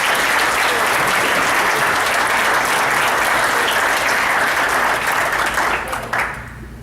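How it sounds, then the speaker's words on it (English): Loud, dense applause from a seated audience at an installation banquet, a sustained roar of clapping that tapers and thins near the end. "Let's give Elizabeth a big round of applause"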